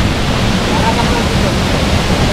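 Hulugan Falls waterfall in Luisiana, Laguna, a dense, steady rushing roar heard up close and loud, filling the whole moment without a break.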